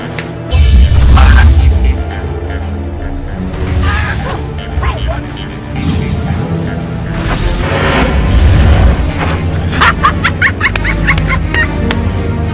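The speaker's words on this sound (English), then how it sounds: "Shooting, gunning." Gunfire and loud crashing blasts in a TV drama trailer, with heavy bursts near the start and again midway over a dense, continuous mix of dramatic effects and raised voices.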